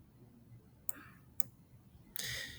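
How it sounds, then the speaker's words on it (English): Mouse clicks on a computer during Photoshop work, three short sharp clicks spaced apart over a quiet background, the last followed by a brief burst of noise. "You're going to go ahead, click OK when you're done."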